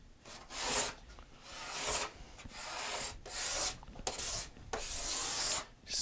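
Sandpaper rubs back and forth across the inside of a wooden steel-string guitar back, close and alone in several long raspy strokes separated by brief pauses.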